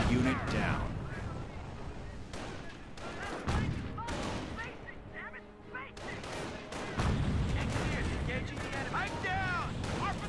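Grenade blast and rifle fire in Company of Heroes 1, a dense battlefield of rapid gunshots and thumping explosions, crackling bursts stacking over each other with shouted voices and commentary mixed in throughout.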